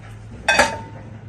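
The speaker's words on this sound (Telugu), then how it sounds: "దీని మీద ఒక మూత కూడా పెడదాం." A lid is set down on a kadai on the stove, giving one short metallic clink and clatter that is close and fairly loud, then a low background hum.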